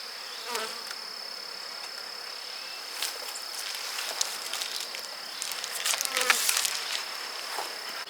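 Honey bees buzz close by at an open hive while honey supers are removed, a steady drone with individual insects whirring louder past the ear now and then.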